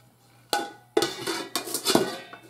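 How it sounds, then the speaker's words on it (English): Dirty dishes and utensils from making homemade chicken broth clatter into a kitchen sink, a series of sharp clanks and rattles starting with a single hit then a busier run of knocks, close and alone. "my dishes, I'm going to put in the sink to wash by hand"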